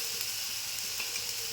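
Spices with onion, ginger and garlic paste frying in a pan, a soft even hiss held quietly for a moment with no other sounds.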